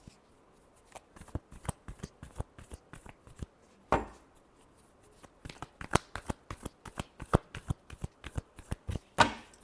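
Tarot cards being shuffled by hand in a quiet room, a long run of crisp, rapid riffling slaps and flicks with a few louder bursts, close up and with no talking.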